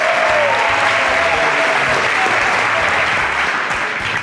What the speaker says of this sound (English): I need an applause for ONGA.